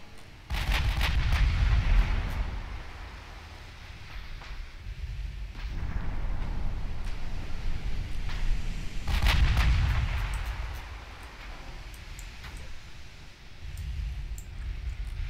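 Naval artillery from 7-inch and 8-inch guns booms in a battleship game, with heavy low rumbling salvos near the start and again around the middle, each blast trailing off into a rolling, sustained roar.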